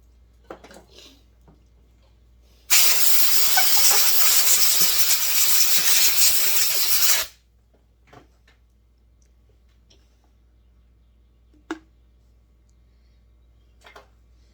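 A small Husqvarna chainsaw fuel filter is rinsed out in a steady, loud wash of spray or running liquid lasting about four seconds, with quiet clicks and small handling taps before and after.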